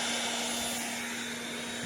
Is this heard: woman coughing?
no